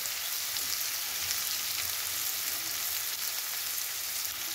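Vegetable curry fries in a pan with a steady, close sizzle and bright crackle that continues without a break and without any voices.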